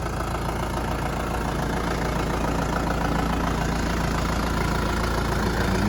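A Kubota M7040 farm tractor idles steadily at close range, its low diesel rumble and faint knock holding even and uninterrupted throughout.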